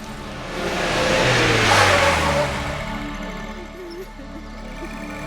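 A car engine in a Tamil film scene swells as the vehicle approaches and passes, loudest around the middle before fading into a lower rumble, with no clear speech.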